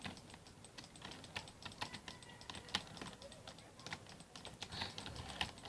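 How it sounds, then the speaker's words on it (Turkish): Rapid, steady clicking runs throughout as a computer mouse or keyboard is hammered during a Roblox running-simulator game, close and fairly loud, with a faint voice in the background. "Mouse sesini duyabiliyor musunuz arkadaşlar?"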